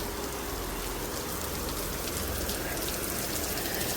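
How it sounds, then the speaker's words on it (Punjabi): Rain falling steadily, with a soft continuous patter of drops on surfaces at moderate volume. "ਮੀਂਹ ਆ ਗਿਆ"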